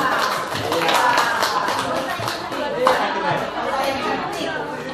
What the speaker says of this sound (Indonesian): kasih tepuk tangan Moza.